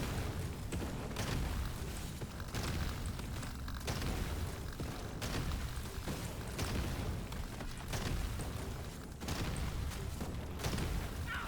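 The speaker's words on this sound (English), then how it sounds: "Look at those explosions, my god!" Repeated deep booms and bursts from grenade launcher explosions in Deep Rock Galactic: Survivor, with heavy low rumble and crackling debris, coming in quick succession at a constant loud level.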